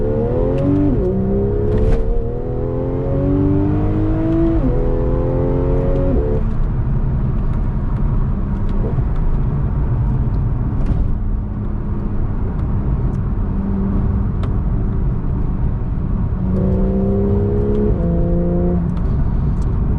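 A Porsche 911 Targa 4 GTS with manual transmission accelerating hard in sport mode, heard from the driver's seat: a steady loud engine drone with rising revs through several gear changes, tone climbing and dropping between shifts.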